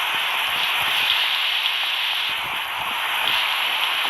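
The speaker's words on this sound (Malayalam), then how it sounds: "പുറത്ത് നല്ല മഴയാണ്." Heavy rain falls outside in a video game, a steady, fairly loud hiss of rain that continues without a break.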